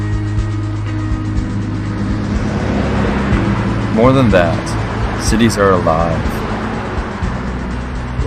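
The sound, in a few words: city traffic, cars zooming past and buses driving by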